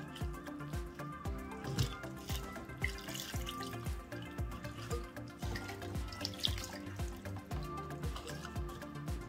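Tap water runs steadily into a sink while cabbage is washed and its leaves pulled apart, with soft splashes and drips over a continuous flow at moderate distance and no talking.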